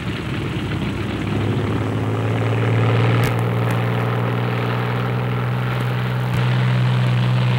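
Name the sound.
WWII fighter aircraft taxiing out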